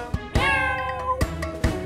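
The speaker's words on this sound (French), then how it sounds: "Le petit chat, petit chat, petit chat." A cat gives a drawn-out, close meow with a strained, wavering tone, followed by shorter sounds and faint clicks, in a children's animal song.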